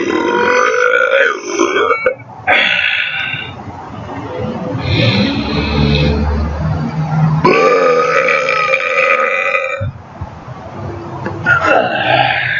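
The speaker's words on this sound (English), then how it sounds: "So that's what my lunch tastes like when I burp." Loud, prolonged burps follow one another, deep gurgling belches with short breaks between them, close up and with no other voices.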